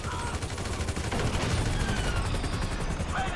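Dense bursts of gunfire crackle in a GTA V shootout, rapid overlapping shots forming a loud, continuous fusillade over a heavy low rumble.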